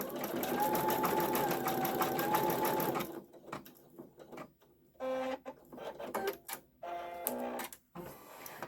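A Brother Skitch embroidery machine stitches steadily for about three seconds in a fast, even mechanical buzz with a whirring tone, then stops and gives shorter, intermittent bursts of motor movement.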